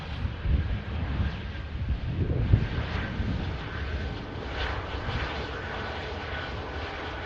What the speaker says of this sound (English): The first arrival, Turkish operating a 330 in this morning from Istanbul.